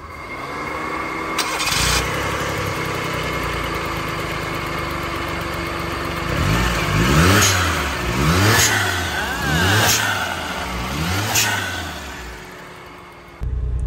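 A restored Perodua Kancil L200 small car engine cranks and catches, idles roughly, then revs up several times in quick, rising bursts before settling.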